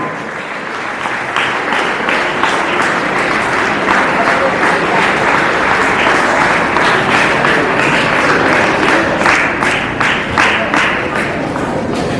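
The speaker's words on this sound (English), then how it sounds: "Let's give her a big round of applause." A school audience at a Republic Day prize ceremony gives a trophy winner sustained applause, loud, dense clapping rising after a second and holding steady to the end.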